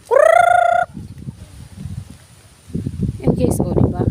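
A chicken on a backyard farm with ginger plants and banana trees lets out a loud, drawn-out call that rises in pitch. Rustling and handling noises follow, and a person talks nearby.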